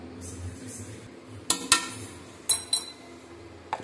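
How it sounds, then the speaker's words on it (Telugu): Cauliflower pakoda batter of cornflour, maida and rice flour is mixed by hand in a bowl. A few sharp, close clinks of a utensil against the dish come in small clusters over a quiet background. "ఇలా బాగా కలుపుకునేసి ఇలా మొత్తం మిక్స్ చేసుకోవాలి"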